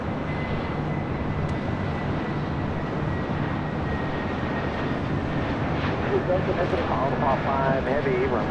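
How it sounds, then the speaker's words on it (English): A Delta Airbus A321neo jet at Los Angeles International Airport gives off a steady, broad engine roar that holds evenly throughout, with faint voices briefly audible underneath near the end. "up next, a Delta A321 Neo."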